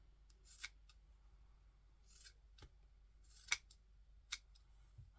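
A small pair of scissors snips material for homemade fly-tying dubbing, several crisp separate cuts at irregular intervals, close and clear against a quiet room with no talking.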